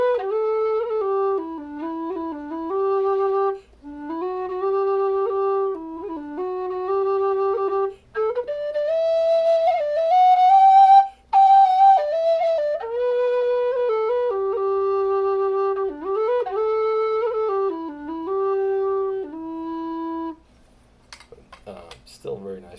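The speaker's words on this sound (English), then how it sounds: "Still a very nice whistle to play." A low D tin whistle, low and breathy, plays a lilting melody with ornamented notes and brief pauses for breath, clear and close, ending with a few faint clicks.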